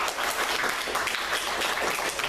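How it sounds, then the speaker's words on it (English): A conference panel audience claps in a short, even burst of applause that fills the whole moment at moderate distance. "can I get another round of applause"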